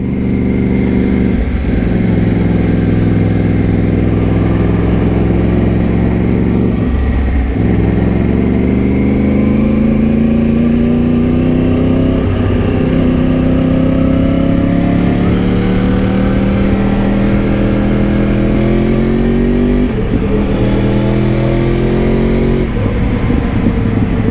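2013 Yamaha R1 motorcycle on a night ride, its engine loud and close, revving up and easing off through several gear changes in a continuous rising and falling drone, with no talk.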